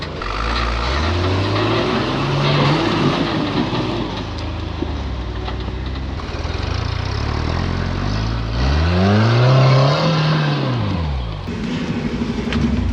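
A rock crawler off-road rig's engine runs loudly and continuously, its pitch rising and falling as it revs and labours over a climb, with a deeper surge near the end.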